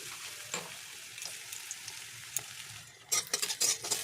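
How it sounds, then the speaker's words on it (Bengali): Soft sizzling of carrots frying lightly in oil in a wok, punctuated by clinks and scrapes of stirring, growing louder and busier toward the end. "এবার আমি প্রথমে একটু গাজরগুলোকে হালকা করে ভেজে নেব"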